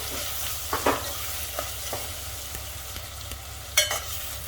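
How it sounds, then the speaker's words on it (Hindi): Masala for Sindhi-style mutton fries and is stirred in a pan, a steady sizzle broken by a few scraping strokes of the spoon, close and clear, with no talking. "तो 1 मिनट तक मसाले को इस तरह से भून लेना है हमको।"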